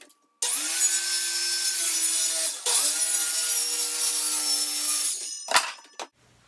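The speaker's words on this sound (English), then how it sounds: "my saw blade will be cutting it at 80 inches" A power saw cutting sheet goods for a platform bed, running in two long, loud, steady passes with a short break between, then spinning down with a final rattle.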